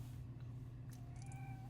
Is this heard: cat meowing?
yes